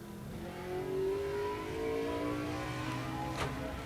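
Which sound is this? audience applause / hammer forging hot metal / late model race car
late model race car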